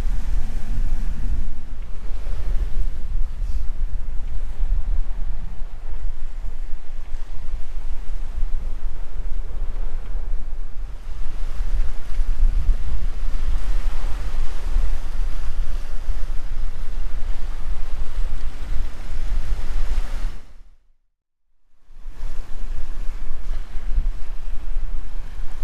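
Sailboat under way on the Pacific Ocean at night, with constant loud wind rush and wave wash against the hull, steady throughout apart from a brief dropout near the end.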